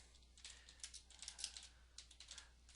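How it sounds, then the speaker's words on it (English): Quiet clicking on a computer keyboard, a quick run of keystrokes in short uneven bursts, faint and close, with no voices. "So for example, I'm going to type"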